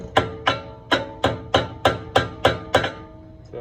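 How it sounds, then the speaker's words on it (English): Small hammer tapping a pin through the Brembo brake pads on a 2013 Camaro ZL1, giving eight sharp, evenly spaced metallic knocks close to the mic, each ringing briefly before the next. "Then we take a little hammer."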